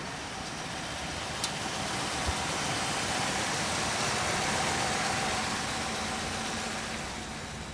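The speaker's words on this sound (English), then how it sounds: "She's been running for a couple of minutes now, so idling nice and quiet." A classic car engine idles in a steady, even rumble, a constant drone with no revving and no talk over it.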